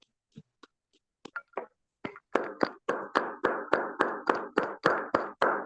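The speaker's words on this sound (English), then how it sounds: "with rapturous applause, please welcome to the virtual lectern, Toastmaster Nameti Akpan." Applause at a virtual Toastmasters meeting starts as a few scattered claps, then settles into a steady, evenly spaced rhythm of single close claps, like one person clapping near a microphone.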